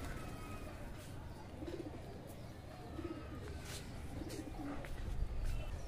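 Pigeons coo softly in a few repeated, evenly spaced bursts while being fed mustard seed, faint against a steady background hiss.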